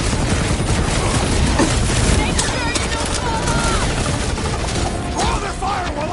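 Sniper gunfire in the Guardians of the Galaxy video game, heavy repeated shots and booms within a loud, chaotic battle mix, with a shouting voice over the combat noise.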